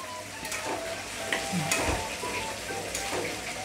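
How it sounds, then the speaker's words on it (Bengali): Ginger paste being stirred in a hot pan for a Bengali prawn and cauliflower curry, with a steady sizzle and frying crackle under repeated spoon scrapes, close and fairly loud throughout. "অল্প পরিমাণে এক চামচের মতো আমি আদা বাটা দিয়ে দিলাম, দিয়ে আমি একটু নেড়ে দিচ্ছি"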